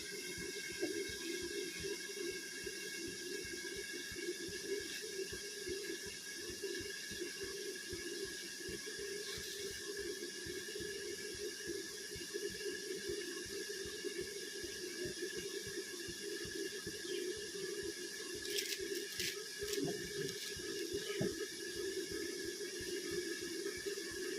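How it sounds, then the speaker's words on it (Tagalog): Water pouring steadily as chickens are given a drink, a faint continuous splashing flow with a constant hiss and a few brief clinks near the end, no voices. "Nagtutubig yung manok."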